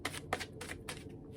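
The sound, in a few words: shuffling cards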